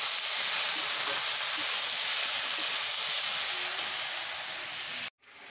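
Leafy greens sauté in a large, overfilled wok, giving a steady, loud hiss of sizzling moisture that holds evenly and cuts off abruptly at the end, with no talking.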